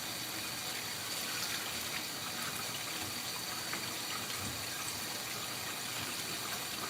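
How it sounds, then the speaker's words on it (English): Water runs steadily from a tap in a home, a continuous hissing gush at low volume with no voices over it. "Wasting all this doggone water."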